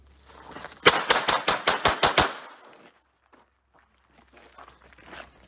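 Eight rapid, loud gunshots from a Hi-Point CF380 pistol at a shooting range, fired in a quick evenly spaced string, followed by a single faint click and quieter shuffling movement.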